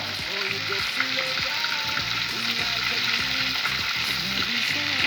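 Rump steak sizzles steadily in a pan with butter, rosemary and thyme, a constant close crackle of fat with someone talking over it throughout.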